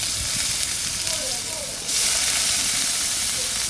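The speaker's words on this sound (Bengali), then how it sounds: "এখানে গোবিন্দভোগ চাল ভালো করে ধুয়ে রেখেছি আমি, এটা একটু ভেজে নেব।" Washed Gobindobhog rice fries in ghee in a pan with a steady, close sizzling hiss that grows louder partway through.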